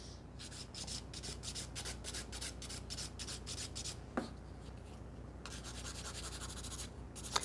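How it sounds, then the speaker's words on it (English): Nail file rasping against a sculpted fiber gel nail in quick, repeated back-and-forth strokes, soft and close, with short pauses between bursts and no talking. "You're actually better off filing just where you need to than filing on the places where you don't need to file"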